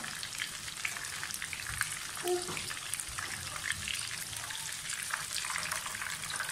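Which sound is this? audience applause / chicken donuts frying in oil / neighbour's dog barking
chicken donuts frying in oil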